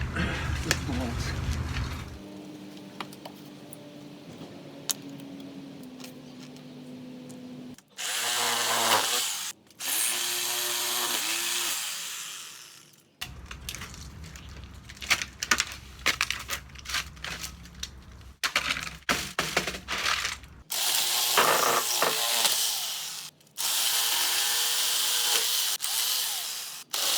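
Power drill on a low power setting removing bolts from an outside wall with termite damage, several loud whirring bursts separated by pauses, clanks and scraping handling noises.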